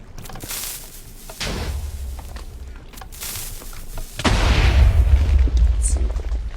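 TNT cannon fire in a Minecraft cannoning match, with deep booming blasts, one after another and fairly loud, and the last one the heaviest.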